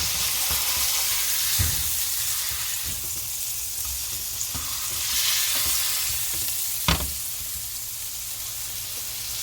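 A jerk-seasoned T-bone steak sizzles loudly and continuously in a hot pan, with occasional spatula knocks and scrapes, close up and without talk.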